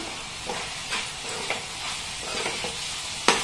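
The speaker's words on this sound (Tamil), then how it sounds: "இதோட சேர்த்து நல்லா மிக்ஸ் பண்ணிடலாம்." Masala spices and coriander powder stirred in a hot pan for mutton gravy, with a soft continuous sizzle and scattered light scrapes of a spoon, ending in a sharper knock, fairly quiet and with no talking.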